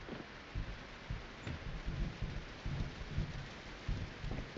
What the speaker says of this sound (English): I like the sound of the thunder and the rain in the game.